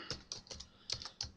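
Keys on a computer keyboard clatter in a short, quick burst as a folder name is typed, close and fairly faint.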